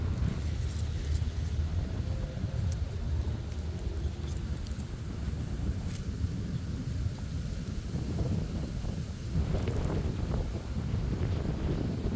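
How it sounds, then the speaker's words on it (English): Strong wind roars steadily across an open-air fishing spot, a dense low buffeting rumble with gusty microphone noise throughout and no voices. "That wind is super high."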